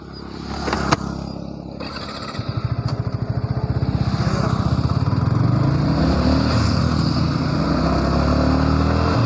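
A motorcycle engine starts up close by, settles into a rapid putter and then revs steadily louder as it pulls away, with no talking over it.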